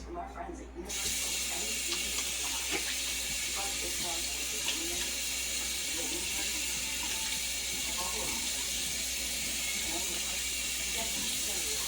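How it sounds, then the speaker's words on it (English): Water runs steadily from a tap as hands are washed in a home kitchen, a constant hiss of spray, with a voice speaking faintly under it. "Now you're gonna wash my hands again."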